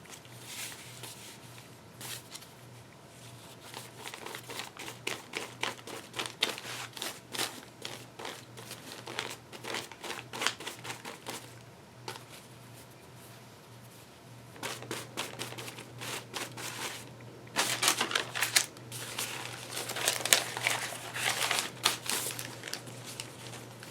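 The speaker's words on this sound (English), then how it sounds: "I'm going to tear it." Paper crinkling and tearing from a cheap journal, coming in bursts of close crackly rips and rustles with quieter handling gaps between them, no talking.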